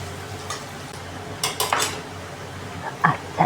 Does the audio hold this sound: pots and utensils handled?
yes